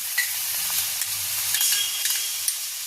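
Ginger garlic paste sizzles and fries in a hot pan for a duck egg curry, a steady bright hiss broken by occasional stirring scrapes, close and continuous.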